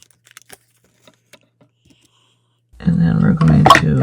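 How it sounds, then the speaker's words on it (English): Paper being trimmed while making a Stampin' Up! card with a cut and emboss machine, a few faint small ticks at first, then a loud close rough scraping and rustling burst near the end. "Just going to trim this off."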